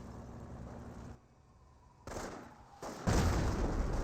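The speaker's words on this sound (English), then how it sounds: "Mortar half-track engaging that M1 AT gun." Mortar half-track shelling an M1 anti-tank gun in Company of Heroes, with a dense rumble of battlefield fire and booms that quiets briefly, then swells into louder, sustained blasts toward the end.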